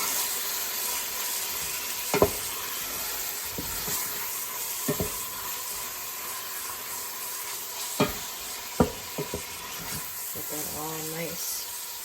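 Sliced eye of round beef fries with onion and garlic in a pot, a steady hiss with occasional spoon scrapes and clanks, while a voice speaks briefly near the end.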